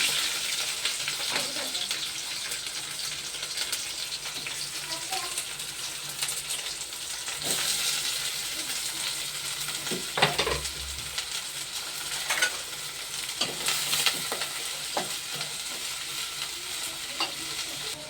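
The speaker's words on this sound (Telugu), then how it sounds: "ముందు ఉల్లిపాయలు వేస్తున్నానండి." Onions frying in a pan alongside green chillies, with a constant busy sizzle throughout and intermittent scraping stir strokes and soft knocks, heard up close.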